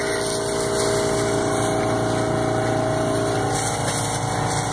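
An air pump runs steadily and loudly up close, a constant droning buzz with a humming motor tone as it inflates a patched tire.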